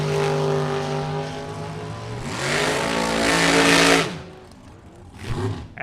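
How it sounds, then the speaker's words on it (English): A two-tone Corvette roars down a drag strip, engine pitch climbing through gears loud and close before fading quickly, followed by a brief burst of another car. "Tim Folker, left-hand side. In the two-tone Corvette."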